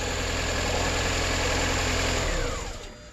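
An R50 MINI Cooper engine idles loud and steady with its power steering pump removed, then is switched off and spins down over the final half second, with no talk.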